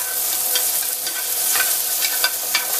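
Sliced cucumber being stir-fried in a hot pan for a Korean side dish, giving a steady close sizzle with light scraping and stirring clicks and no talking.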